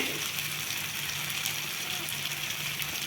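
Hot water poured into a pan of chicken curry, a steady rushing, gushing pour that runs for the full few seconds at an even, moderate level.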